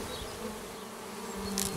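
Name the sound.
Carpatica honeybees buzzing in mini hive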